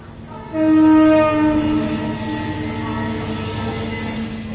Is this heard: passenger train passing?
yes